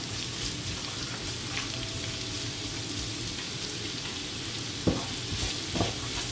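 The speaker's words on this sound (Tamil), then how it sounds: "ஆனியன் வந்து நல்லா வதங்கட்டும் கொஞ்சம்." Onions sautéing on low heat in a pan for veg kurma, a soft continuous sizzle with a couple of spoon scrapes and knocks near the end, close with no voices.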